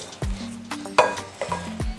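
Rice being mixed with baharat and olive oil, spoon scraping and clinking against a pot or bowl in a few separate strokes, close and fairly quiet with soft sizzle-like rustle between them.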